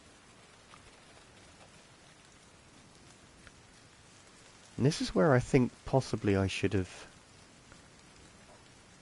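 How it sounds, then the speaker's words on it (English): Heavy rain in the video game The Division 2 hisses as a steady, moderately quiet wash throughout, with someone talking over it partway through. "Well, I say foggy, it's actually just really heavy rain."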